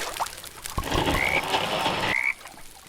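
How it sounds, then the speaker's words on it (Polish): Frogs croak in the Roblox game 99 Nights in the Forest, a dense, steady croaking chorus lasting about two seconds that stops abruptly, with a couple of short chirps layered on top and no speech. "To są żaby."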